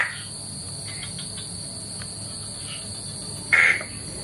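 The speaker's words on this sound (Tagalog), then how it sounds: "maririnig mo lang yung mga huni ng mga animals" Night ambience at a villa in Bali, with a steady chorus of crickets and insects and a short, louder animal call near the end. No one speaks.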